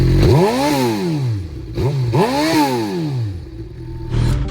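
A crashed Suzuki GSX-R750 motorcycle engine is revved twice, each blip rising sharply and falling back to a loud, close idle, with some mechanical clatter and no talking.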